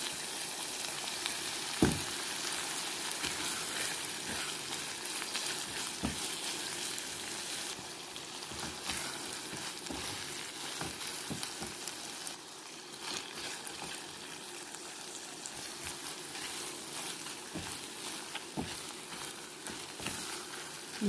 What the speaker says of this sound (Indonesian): Kita aduk dan masak terus sampai airnya mengering dan bumbunya tanak.